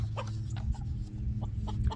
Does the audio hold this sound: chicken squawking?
yes